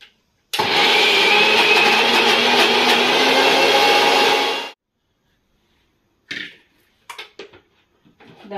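A kitchen mixer grinder blends a mixture in one loud, steady whirring run of about four seconds that cuts off abruptly, followed by a few faint clicks and knocks.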